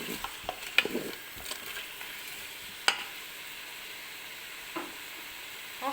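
Red and green bell peppers sizzle and fry in a pan for paella, with steady crackling broken by a few sharp stirring scrapes and clinks of a utensil, close and alone.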